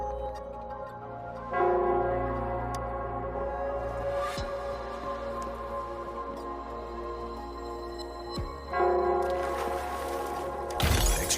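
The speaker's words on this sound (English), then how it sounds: "The bell sounds closer now." A resonant bell in the video game Wuthering Waves rings out in long, sustained tones, struck twice or more, each strike blooming and slowly fading over a quiet ambient hum.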